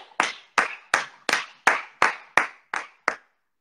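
Nine crisp, evenly spaced claps ring out in a steady rhythm, close and clear against silence, from a person clapping.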